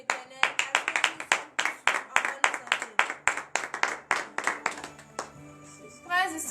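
A standing congregation at a morning prayer service in Comè, Benin, claps in a fast, steady rhythm, sharp and close, with voices rising toward the end as the clapping stops.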